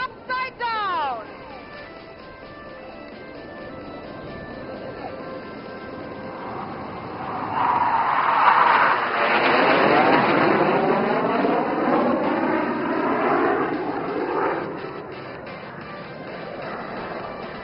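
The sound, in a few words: aerobatic aircraft flying upside down at Aero India air show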